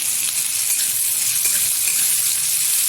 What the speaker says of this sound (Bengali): তেলের মধ্যে আমি পেঁয়াজগুলো ছেড়ে ব্রেস্তা